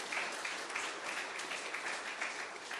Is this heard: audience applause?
yes